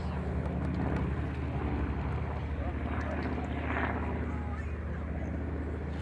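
A slow three-engine propeller transport aircraft drones steadily overhead, a continuous low engine hum holding at moderate loudness throughout.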